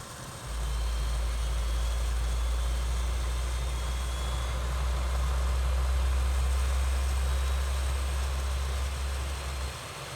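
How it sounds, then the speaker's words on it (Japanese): An MH-60 helicopter engine starts in Microsoft Flight Simulator. A deep, even hum rises within the first half second, holds steady for about nine seconds under a faint whine, then cuts off near the end. "これでエンジンが始動します。"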